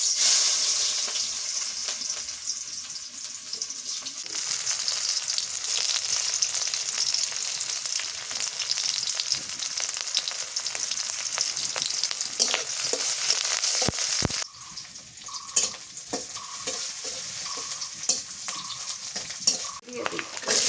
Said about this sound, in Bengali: পেঁপের সবজি পেঁয়াজ দিয়ে দিই তেলের মধ্যে